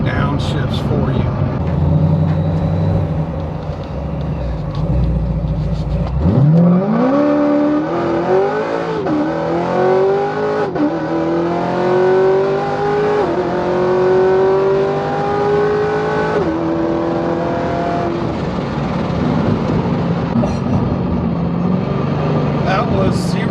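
A supercharged Corvette Stingray accelerates hard from a standstill, its engine climbing steadily in pitch through several upshifts and staying loud and close throughout, with occasional talk in the cabin over the engine.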